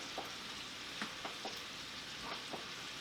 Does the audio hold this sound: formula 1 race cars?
no